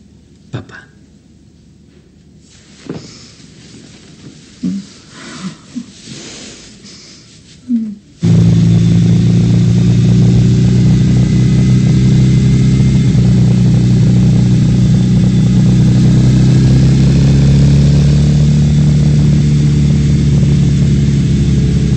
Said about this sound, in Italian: Mi farai fare un giro sulla tua moto?